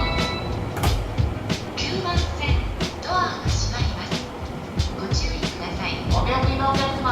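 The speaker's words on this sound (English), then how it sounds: "I just think this train is dope as hell. I think it's the Narita Express." Narita Express train passing in Shibuya, a steady rumbling roll with repeated clickety-clack wheel beats and occasional metallic squeals, fairly loud and close, with background voices around it.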